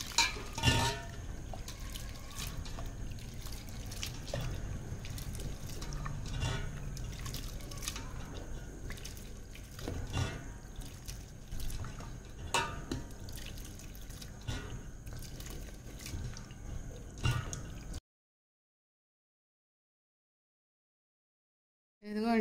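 Flattened rice (poha) is washed in water in a bowl: steady trickling, dripping and sloshing with small splashes, close and fairly constant for about eighteen seconds, then silence with a brief noise at the very end.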